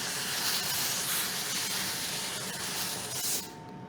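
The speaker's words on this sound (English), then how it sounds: "I am going to steam this nice and flat before I trim it down." A steam iron blasts a continuous, loud hiss of steam onto a quilt block for several seconds, cutting off abruptly near the end.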